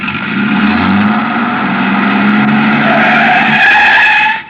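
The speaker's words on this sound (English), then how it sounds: "He turned over the engine and switched on the lights before I could get clear." A truck engine roars continuously and loudly in a radio drama sound effect, with a steady rumbling drone and tire noise as the vehicle pulls away, then cuts off abruptly at the end.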